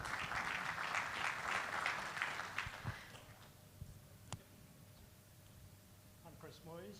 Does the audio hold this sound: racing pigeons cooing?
no